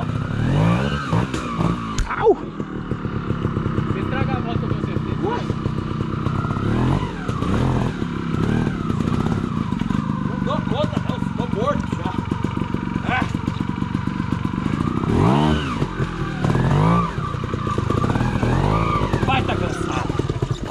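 A trial motorcycle on a rocky trail at Pedra Grande, Igarapé, with its engine revving and stuttering over rough ground for a long stretch, loud and close, with people talking over it.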